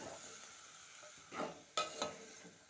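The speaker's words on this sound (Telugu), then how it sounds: "టమాటా వేసి ఇలా కలిపేసుకోవాలి" Tomatoes are stirred into a frying curry with potatoes: a faint sizzle under a few brief scraping strokes of a spoon against the pan.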